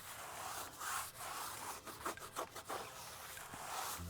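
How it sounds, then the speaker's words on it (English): Blue brush scrubbing a car tire that has long gone uncleaned, close rasping strokes in a quick uneven rhythm with a few short pauses, no talk. "gonna go ahead and clean the actual tire again with my blue brush"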